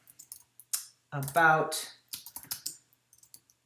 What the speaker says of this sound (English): if I were to type in here